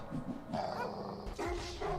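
A dog or wolf character in the Scary Teacher video game growls and whines in short, close, fairly loud bursts, with no clear talk over it.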